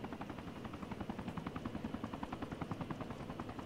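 A helicopter in the military video game ArmA 3 beats with a steady, rapid rotor chop under a low turbine hum, heard at moderate distance and fairly quiet, with no speech.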